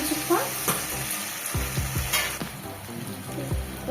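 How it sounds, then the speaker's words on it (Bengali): Tomato stir-frying with ground garlic and ginger for a jackfruit and shrimp dish, a busy close sizzle broken by repeated spatula scrapes and knocks against the pan, no one speaking. "এবার একটু নাড়াচাড়া করে নিলাম কিছুক্ষণ"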